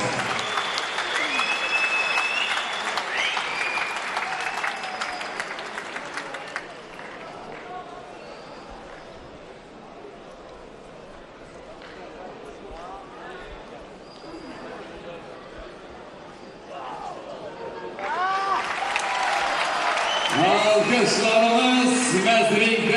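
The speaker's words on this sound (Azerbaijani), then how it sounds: "Gürültülü alqışlarınız." An audience at an award ceremony claps loudly as 22-year-old athlete Ruslan Musayev receives a cup. Dense applause fills the opening seconds, fades to a murmur of voices, then swells again near the end.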